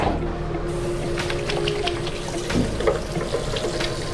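Tap water runs steadily into a sink as hands are washed, a continuous close splashing stream with no talk.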